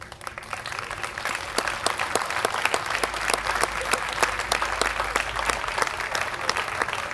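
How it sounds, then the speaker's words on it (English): Audience applause at a small business awards ceremony, a steady dense round of clapping from a crowd that carries on evenly throughout. "And we'll resume the applause once we get the rest on the field here,"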